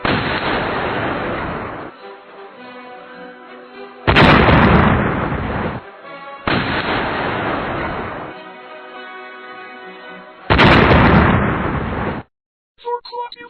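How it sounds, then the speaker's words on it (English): Missile explosions go off in four loud, close bursts, each a broad roaring blast lasting about two seconds, separated by quieter rumbling stretches and a brief silence near the end. "Fire the second missile!"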